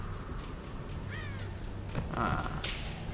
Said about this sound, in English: Frickin' bird.